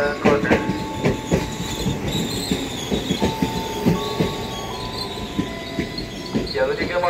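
A KRL Commuter Line train rolls into Pasar Minggu station in Jakarta with rhythmic clacking wheels and metallic squeals, a steady rumble underneath and faint voices in the background.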